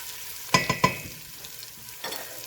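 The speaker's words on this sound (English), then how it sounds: "Next we're going to add our mirepoix." Mirepoix going into a hot pot for borscht, with a quick run of three close clatters and scrapes, then a steady low sizzle and another stir near the end.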